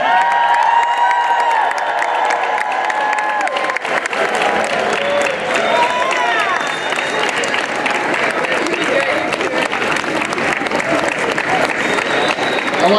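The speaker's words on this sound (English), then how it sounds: "Let's make the loudest Portage High School cheer and wave those flags and salute our veterans." A high school veterans assembly erupts in loud cheering and applause, a dense crowd of students clapping, shouting and whooping continuously throughout.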